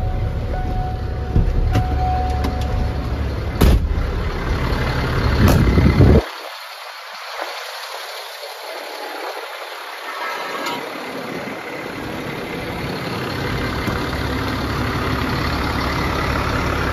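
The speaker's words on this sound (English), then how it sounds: "Start the truck back up." Truck engine idling after a restart during an air brake test, a loud mechanical start burst followed by a steady low engine rumble that continues evenly, close by.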